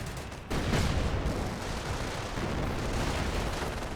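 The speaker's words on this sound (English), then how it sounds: "Sector Artillery is still active in this region." Sector artillery pounds away in a Company of Heroes match, a continuous rumbling barrage of distant explosions and gunfire that swells suddenly and then rolls on steadily.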